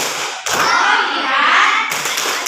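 Children in a classroom perform a focus clapping routine, a burst of many hands clapping together for about a second and a half, loud and close, with voices mixed in and quieter gaps before and after.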